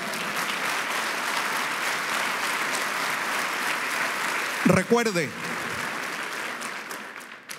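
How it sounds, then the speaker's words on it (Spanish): A church congregation applauds steadily for several seconds, a dense wash of clapping that fades as a voice begins speaking near the end. "¿Cuánto le dan un aplauso al Señor por eso?"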